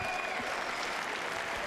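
Applause from a boxing crowd at the Vladimir Virchis vs Michael Sprott fight, steady dense clapping filling the arena throughout, loud and continuous with a faint murmur of voices underneath.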